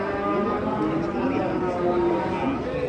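A masked cow that has just come down off a truck gives loud, drawn-out lowing moos close by, mixed with excited chatter from people nearby.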